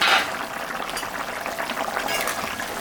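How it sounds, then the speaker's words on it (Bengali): Catla fish kalia curry simmering in a covered pot, a steady close bubbling and sizzling hiss with a brief louder burst at the start, no voices. "5 মিনিট মাছটা দিয়ে ফুটুক"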